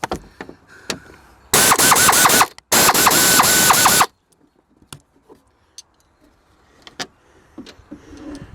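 An air ratchet whirs loudly in two sharp bursts, each about a second long, while fasteners come out of the dash of a Pontiac Sunfire during gauge cluster removal, followed by quieter clicks and handling noises.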